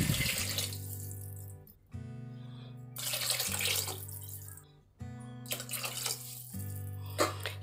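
Water poured into a simmering raw papaya and spice gravy in a pan, a steady splashing pour that pauses and resumes several times over a constant background hum.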